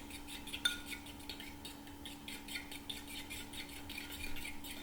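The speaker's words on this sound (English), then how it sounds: "I'm going to whisk the yolk and the white all together." Egg yolk and white being whisked together in a bowl, a steady run of light rhythmic clinks and taps from the whisk against the bowl over a faint background hum.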